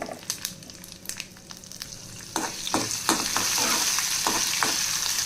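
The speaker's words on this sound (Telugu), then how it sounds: "ఆల్రెడీ ఫస్ట్ తాలింపు పెట్టుకోవాలి" Dried red chillies, chana dal, urad dal, mustard seeds, cumin, curry leaves and peppercorns tempering in hot oil: scattered sharp crackles and pops build into a loud, continuous close sizzle.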